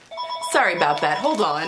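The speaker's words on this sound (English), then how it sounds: "sorry about the phone, that made me jump" A telephone rings indoors in a sewing room while someone talks over it, the ring continuing steadily under her voice.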